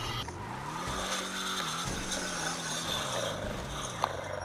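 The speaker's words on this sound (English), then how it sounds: "if I can get it to stop scraping like that" Vehicle scraping along the ground in GTA V, a continuous gritty rasping drone with a shifting low engine tone underneath, steady and fairly loud throughout with one brief sharp click near the end.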